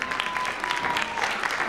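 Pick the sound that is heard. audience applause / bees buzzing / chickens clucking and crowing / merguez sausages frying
audience applause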